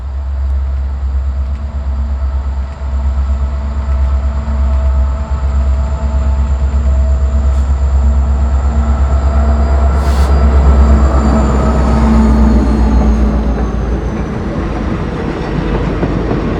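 Steam locomotive C&O 614 being hauled by a train along an Amtrak line at slow speed, with a steady loud rumble of rolling rail cars, rhythmic wheel clatter on the track and a faint high whine throughout.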